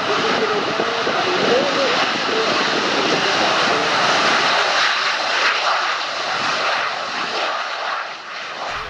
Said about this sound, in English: This is the heart of the Harrier. It's a Rolls-Royce Pegasus engine.